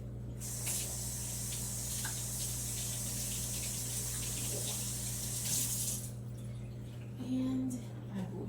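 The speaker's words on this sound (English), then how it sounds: "let me go wash the silk off my fingers" Running tap water splashes steadily over fingers as corn silk is washed off at a sink, a continuous close hiss that stops near the end, leaving faint clinks and room hum.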